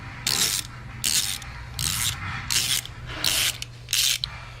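A spark plug being turned out of a Range Rover P38 V8 engine with a ratchet, producing six or seven evenly spaced bursts of clicking ratchet strokes, close and fairly loud, with no talking.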